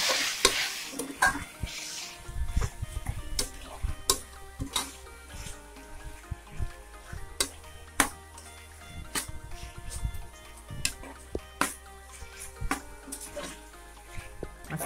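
Chicken and masala sautéing in a pan for a pressure-cooker chicken biryani, with soft sizzling broken by sharp spoon clicks and scrapes against the pan, close and fairly quiet.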